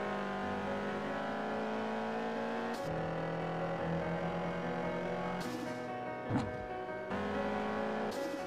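Engine tone of a car in a racing video game, skidding in fourth gear: a steady harmonic drone of the motor with brief breaks and a short scuffing burst near the end, loud and continuous with no talking.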